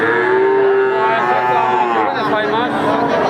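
A Sindhi breed calf of about four to five months calls at a cattle market, its loud, drawn-out moo filling most of the moment over a steady background of crowd chatter.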